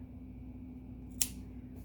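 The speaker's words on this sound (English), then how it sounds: "So then we can take scissors and you can cut the excess yarn." Scissors make one quick, sharp snip through excess yarn from a crochet pumpkin bowl, heard close and alone against a quiet, steady room hum.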